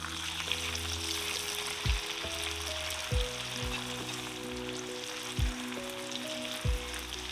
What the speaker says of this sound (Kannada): ಏನು ಡಬಲ್ ಫ್ರೈ ಮಾಡುವ.